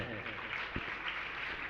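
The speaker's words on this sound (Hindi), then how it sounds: "ताली नहीं बजाओ अभी बीच में।" An audience clapping during a religious discourse, a steady loud wash of applause from many hands filling the entire moment.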